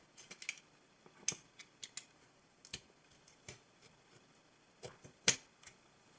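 Scissors or a blade cutting through a baked, scored clay-covered shell, a close, quiet series of irregular crisp snips and ticks with short pauses between.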